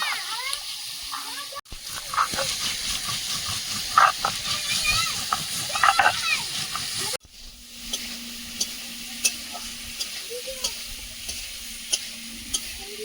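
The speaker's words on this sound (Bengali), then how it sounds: "বরবটিটা ভাজা ভাজা হয়ে গেছে" Yardlong beans frying in a pan, with a steady sizzle, hiss and bursts of stirring, abruptly cut into separate segments, the later part quieter with sharp periodic clicks.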